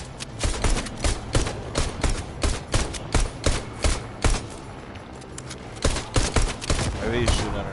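Gunfire in a first-person battle royale shooter, a rapid series of sharp loud shots in clustered bursts with short pauses between them, close and dominant throughout.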